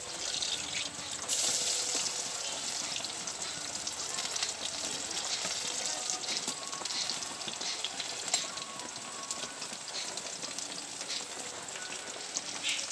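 Tomato pakoras fry in hot oil over medium heat, giving a steady, close crackling sizzle that runs unbroken for over twelve seconds with no talking.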